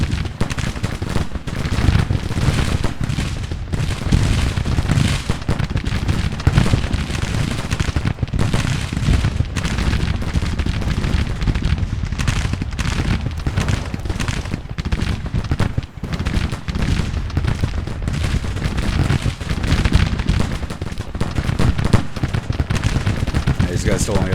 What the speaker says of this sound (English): Keep shooting them.